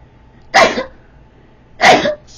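Two sharp, explosive sneezes, about a second apart, close and loud against near silence.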